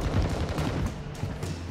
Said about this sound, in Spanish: Y ahí es cuando justo escucho unos tiros cerca mío.